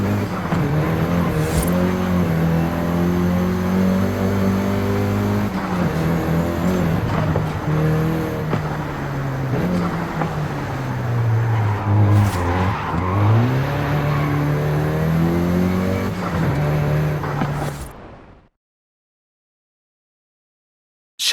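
A Volkswagen Golf GTI hot hatch driven in the video game Forza Horizon 5, its engine revving up and down through repeated gear changes with brief tire squeals, loud and continuous before cutting abruptly to silence.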